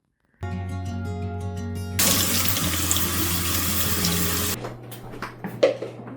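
Running water splashes loudly into a sink for a few seconds as soaked lentils are drained and rinsed in fresh water, with a steady hum before and after the flow.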